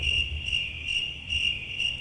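Crickets chirp in a steady, pulsing rhythm, a shrill high trill repeating several times over a low background rumble.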